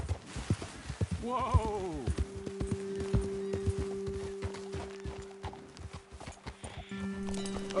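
Horses' hooves clip-clopping in a video game, a rhythmic trot of several hooves close by, with a horse whinny early on and a short exclaimed word from a person.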